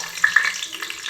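Bay leaf and star anise dropped into hot oil for a home-style Dindigul mutton biryani give a brief, close sizzle with a few sharp crackling pops that quickly settle into a soft hiss.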